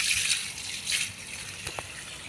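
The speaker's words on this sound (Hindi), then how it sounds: "तो चलो यहाँ पर तो पानी तो दे रहा हूँ पेड़ पे।" Water poured onto banana trees in an outdoor grove, a broad hissing gush in uneven bursts, close and fairly loud, with no talking.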